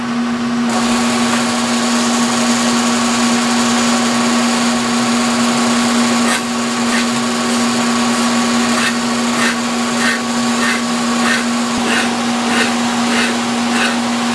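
A metalworking machine cuts a bronze casting with a steady, loud mechanical whine and hum, joined in the second half by a run of rhythmic ticking clicks.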